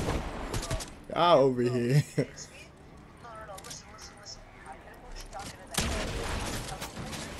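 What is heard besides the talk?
gunfire in a video game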